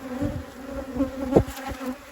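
Carniolan honeybees buzz around an open hive during a brood check, a faint, steady drone with individual bees flying past close by in brief, louder swells.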